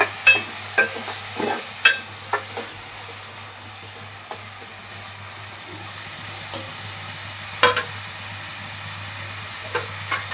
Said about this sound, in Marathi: आपल्या कांद्याला आपण छानसं एकदम भाजून घेऊया.